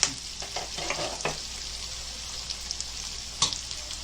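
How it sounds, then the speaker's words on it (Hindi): Onions with salt are stirred in a pan with a spoon: a soft, close sizzle with a few scraping strokes early on and a sharper clatter near the end, fairly quiet and without voices. "अभी चम्मच से चलाएंगे, थोड़ा प्याज को नरम करेंगे।"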